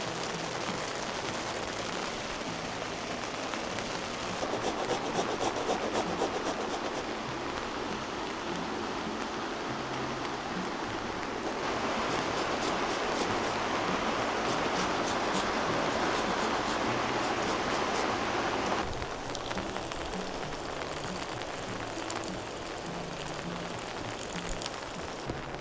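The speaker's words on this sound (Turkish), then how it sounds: "Son 10 dakikadır çok felaket bir yağmur yağıyor." Heavy downpour drumming steadily on a barracks-style tent at a solo campsite, a dense continuous hiss that swells louder midway and never lets up.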